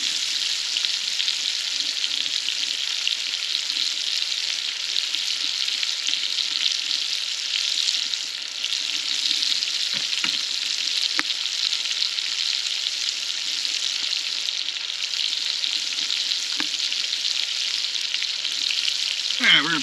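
Sausage fries in a pot over a wood fire for pastalaya, a continuous bright crackling sizzle holding steady throughout, with a few faint knocks and scrapes.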